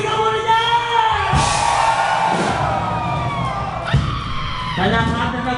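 A concert crowd at a live show yells, whoops and cheers loudly in sustained waves, mixed with amplified voices and the boom of a large hall.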